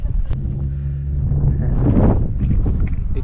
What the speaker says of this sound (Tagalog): Labig ng hangin